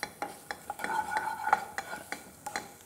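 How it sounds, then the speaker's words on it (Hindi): Whole coriander, cumin, cinnamon and black cardamom, with a few peppercorns, cooking lightly in a pan for tomato soup; a quiet run of spoon clicks and scrapes against the metal, stirred at an irregular pace with no talking. "थोड़ा सा साबुत धनिया, जीरा, दालचीनी, मोटी इलायची। इसे लाइटली हमें कुक करना है।"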